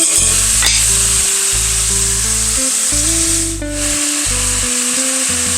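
Beef sizzles and fries in a pan with onion and garlic, a loud continuous hiss with crackles under a steady low hum, interrupted by brief stirring gaps.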